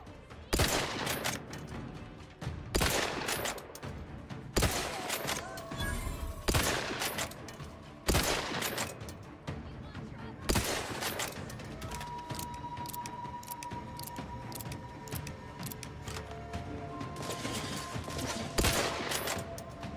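Video game gun firing in a space shooter: repeated sharp bursts of gunfire roughly every two seconds over a dense, busy game soundscape with a tonal hum.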